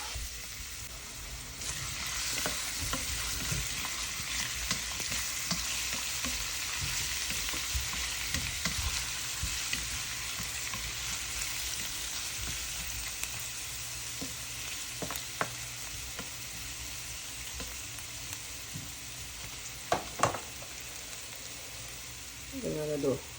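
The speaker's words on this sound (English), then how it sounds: "To the pot, we're gonna add some olive oil. Alright, so we're going with garlic and ginger." Garlic and ginger fry in olive oil in a pot for a coconut curry shrimp, producing a steady close hiss and sizzle throughout, with occasional stirring scrapes and clinks and a voice speaking briefly beneath.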